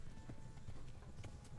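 Horse hooves pound in a fast, rhythmic gallop in Kingdom Come: Deliverance, close and steady, with a low rumble beneath the clip-clop.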